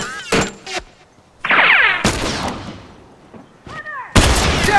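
Loud gunshots ring out in The Last of Us Remastered during an online match on the Suburbs map, with sharp cracks and booming reports spaced irregularly across the scene.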